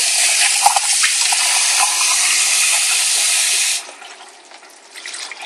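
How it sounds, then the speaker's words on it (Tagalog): Water is poured into a paella pan for about four seconds, a steady loud splashing rush that then stops, leaving faint bubbling and clatter. "Medyo lalagyan natin siya ng tubig."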